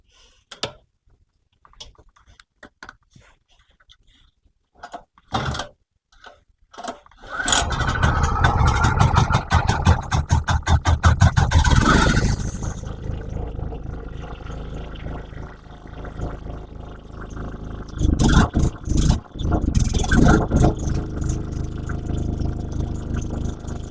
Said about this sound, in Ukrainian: Заводимо генератор.